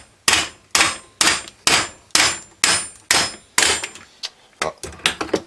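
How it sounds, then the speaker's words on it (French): A hammer strikes a bent aluminium leg of a Preston Monster feeder chair again and again, giving about a dozen sharp, loud metallic clangs in a fairly steady rhythm that quickens near the end. "il nous faut un marteau avec une section plus grande que le pied, et nous allons frapper comme ceci"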